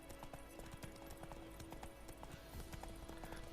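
Steady clip-clop of horse hooves trotting at an even rhythm in The Witcher 3, layered over a continuous tonal hum and ambient game sounds.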